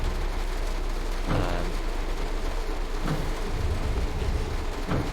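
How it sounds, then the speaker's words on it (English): Steady rain hisses continuously in the Train Sim World 3 train simulator game, Southeastern High Speed route, with a few low dull thumps breaking through the downpour. "So I know we can hear the rain coming down."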